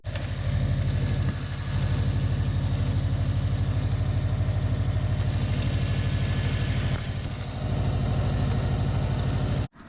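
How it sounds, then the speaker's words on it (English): A Subaru engine with a failing harmonic balancer runs at a steady idle close up, a constant throbbing drone with a faint vibration, briefly dipping twice before cutting off at the end. "I'm gonna show you a video of it running so you guys can see"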